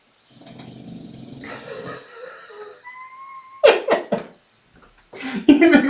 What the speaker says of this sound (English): when I'm quiet and the dog snores, I can see the bars rising